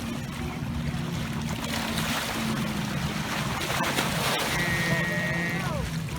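Choppy waves slosh and splash on Kalamalka Lake amid gusty wind buffeting the microphone, a steady rough wash with someone speaking nearby.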